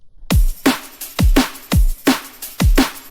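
A punchy drum loop repeats: deep booming kicks alternating with crisp snare hits in a steady rhythm, close and loud with no other instruments.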